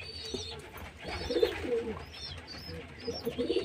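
Pet pigeons coo softly in low, throaty bursts close by, repeating a few times amid faint chirps and quiet background noise.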